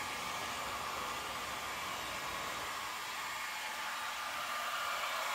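A heat gun blowing hot air while post-heating vinyl graphics on a van, a steady, close, continuous hiss-like roar with no pauses.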